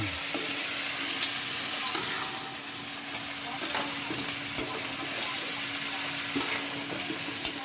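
Food is stirred in a hot frying pan, with a steady close sizzle broken by repeated scraping strokes of the utensil against the pan, and no voices.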